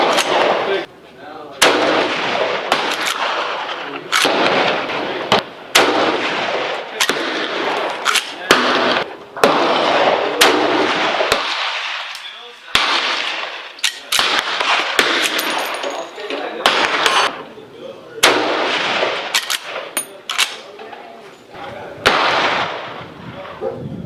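Rounds from a Winchester 1895 Russian musket ring out outdoors as a series of loud, sharp cracks spaced irregularly over about twenty seconds.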